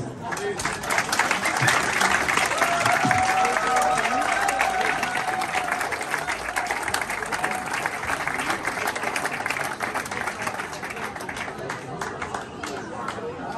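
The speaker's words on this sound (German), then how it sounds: "nochmal einen großen Applaus" A large audience at the Schlemmermarkt 2022 in Wassenberg claps steadily for over ten seconds, a dense, even wash of applause with some cheering mixed in.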